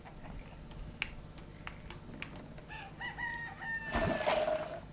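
Clucking and crowing of a chicken in the video game Yono and the Celestial Elephants, a few short calls with a louder, drawn-out cry near the end over soft game background sounds.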